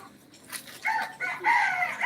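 Chicken being chased into a corner gives a run of loud, harmonic squawking calls, starting faintly and growing into several strained bursts over about two seconds, with no talking.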